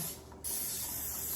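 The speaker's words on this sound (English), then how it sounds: "I'm gonna spray my pan down" Cooking spray hisses onto a metal baking pan in a home kitchen, one continuous close, loud spray of about a second after a brief lull.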